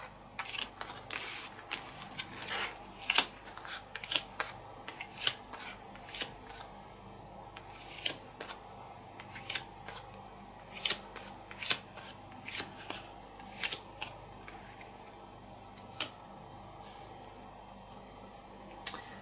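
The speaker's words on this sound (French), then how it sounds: "Donc je récupère toutes mes cartes." Board game cards from It's a Wonderful World being gathered and handled on a table, with a long series of crisp, irregular snaps, flicks and rustles, near and fairly quiet, without any talk.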